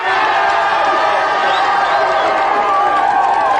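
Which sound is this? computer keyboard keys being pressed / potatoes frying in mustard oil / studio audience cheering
studio audience cheering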